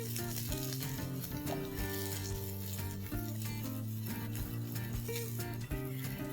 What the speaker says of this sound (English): Once the oil is hot, let's add in the potatoes.